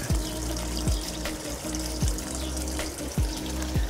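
Water from a decorative garden fountain in a vegetable garden runs steadily and close by, with a continuous splashing trickle and faint rhythmic knocks recurring through it.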